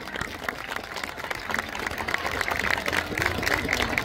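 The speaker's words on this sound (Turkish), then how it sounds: "evet bir alkış alalım" Audience at a science festival clapping, a continuous wash of many hands that swells slightly toward the end, moderately distant, with a voice faintly under it.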